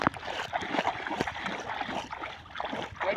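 Legs wading through hot water, with sloshing, splashing and gurgling close by in uneven surges as someone moves deeper in.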